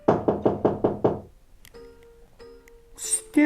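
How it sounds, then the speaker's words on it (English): Six quick, solid knocks on a door in a steady rhythm, followed by quiet and faint ringing tones. "She knocked on the door."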